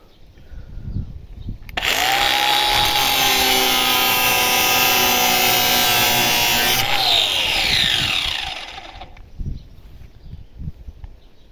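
A Dnipro-M 125 mm angle grinder spins up and cuts loudly for about five seconds with a steady high whine, then winds down; faint voices and handling noises come before and after.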